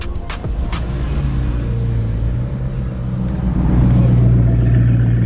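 A Bugatti hypercar cruising along 17 Mile Drive during car week, its engine a steady low rumble that swells louder toward the end as it passes close by, with a brief voice near the start.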